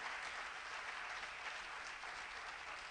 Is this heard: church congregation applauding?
yes